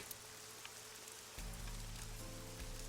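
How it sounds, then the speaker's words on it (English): Steady rain pours down in AI: The Somnium Files, a continuous hiss that grows fuller and louder partway through, with low background rumble and no voices. "The rain is depressing."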